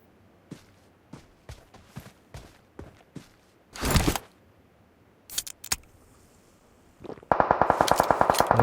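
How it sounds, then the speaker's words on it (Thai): Gunfire in PUBG: scattered single shots and footstep-like clicks, a loud burst, then a rapid, sustained automatic volley toward the end, close and loud with no talk. "ยิงกันแล้ว"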